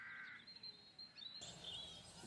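Crows cawing in the fantasy adventure game The Dark Eye: Chains of Satinav, short harsh calls that are fairly faint within a layered game soundscape, no talk.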